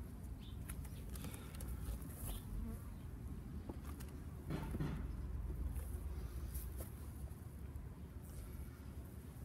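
Honey bees at an open hive during an inspection in a garden, a constant dense buzzing swarm heard up close at low level, with a slight swell midway and faint outdoor background.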